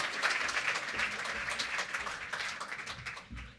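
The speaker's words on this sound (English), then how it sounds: "So let's give them a round of applause." Audience applause for presenters at an addressable advertising presentation, dense and steady clapping from a crowd that carries through and begins to thin out at the end.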